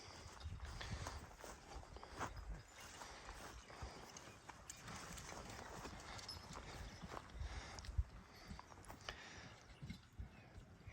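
Horses plod at a walk while ploughing a garden in the Carpathian mountains, with faint, irregular hoof thuds and rustling heard at a distance.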